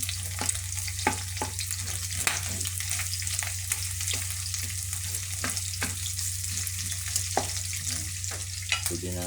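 Onion and garlic sizzle steadily in a hot pan, a continuous close frying hiss broken by frequent sharp crackles and occasional stirring clicks, with no talking.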